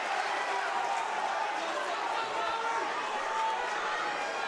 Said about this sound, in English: He's got a cheering crowd here for him.